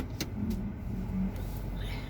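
A car idling and creeping stop-and-go in a store pickup line, a low steady engine rumble with soft road noise, heard close from inside the vehicle.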